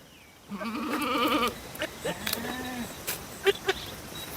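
A Kathiyawadi goat bleats nearby in a long wavering call, followed by a shorter bleat and some scattered farmyard knocks, clear and fairly loud without speech.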